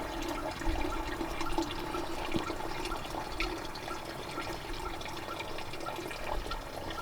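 Water rushing steadily from an RV black water tank as it flushes after the release lever is pulled on a Lady Winnie motorhome, a continuous broad hiss with gurgling, moderately close and alone without talk.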